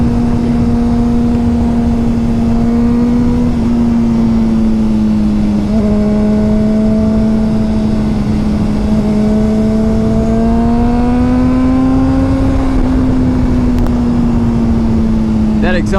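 A 2005 Honda CBR 600 RR motorcycle at high revs gives a loud, sustained exhaust note whose pitch rises and falls smoothly during a ride, heard close throughout.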